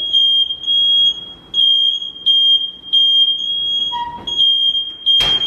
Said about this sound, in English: Don't you hear that fire alarm going off?